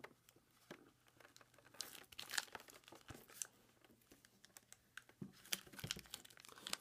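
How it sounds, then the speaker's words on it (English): Plastic wrap on a Kyogre EX tin being picked at and torn, faint close crinkling and rustling with scattered sharp crackles and small bursts, no talk. "the hard part is always just trying to get that first tear in the plastic"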